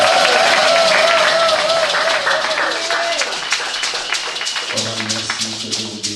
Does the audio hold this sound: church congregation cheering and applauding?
yes